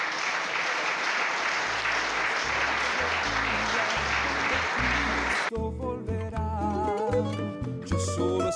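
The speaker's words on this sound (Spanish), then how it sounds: "Fuertes aplausos para el Señor." A congregation at a church doctrinal symposium applauds loudly and steadily for about five seconds, with music playing beneath. The clapping stops and gives way to a sung hymn with instruments.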